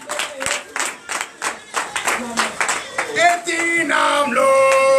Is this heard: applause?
yes